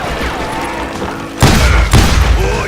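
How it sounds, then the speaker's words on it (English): Gunfire in the Western shooter Call of Juarez: Gunslinger, two heavy booming volleys bursting in about halfway through after a stretch of quieter ambient game sound, loud and close with a sustained rumble between them. "Keep shooting!"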